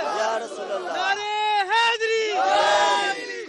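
A crowd at a Pakistani rally roars slogans back in unison to a leader's chant, loud and sustained with rising and falling shouts, voices massed and close.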